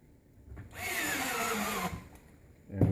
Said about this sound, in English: I'll go back through and I'll put just a few screws in.